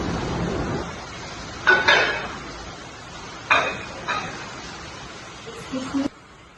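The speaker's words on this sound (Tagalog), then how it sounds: "May I clear the plate, ma'am?" Dishes clinking as a server clears a plate from a restaurant table during table service, with a few distinct ceramic and cutlery clatters spaced apart over quiet room tone and soft voices.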